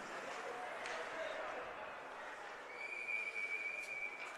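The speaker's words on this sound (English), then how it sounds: "Now the whistle blows as players are all tied up." A referee's whistle sounds at an amateur ice hockey game as players tie up, a high steady tone near the end over faint arena ambience.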